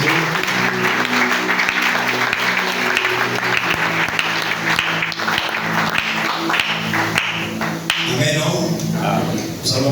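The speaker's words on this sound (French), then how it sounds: "Est-ce qu'on peut encore acclamer pour Dieu?" A church congregation applauds and cheers during a Sunday service, with sustained clapping and voices over a steady musical backdrop and a voice speaking over it.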